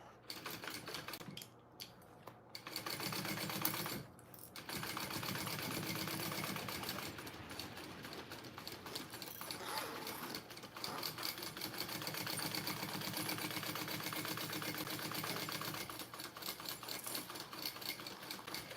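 Sewing machine stitching vinyl for a mini backpack, a close, fast mechanical whirring hum that runs in long stretches with brief pauses between seams.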